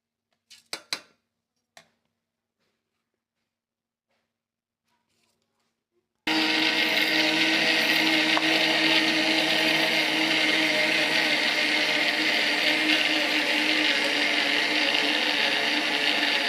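A few sharp clicks and knocks are followed by silence, then an electric grinder bursts on loudly and runs steadily, whirring and rattling as it grinds soaked rice into powder close by.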